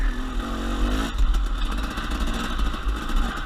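A KTM 250 XC-W four-stroke dirt bike works along a rough enduro trail near the Mexican border, its engine burbling at low revs and then picking up into a choppy, throttled rumble as the rider feathers the clutch.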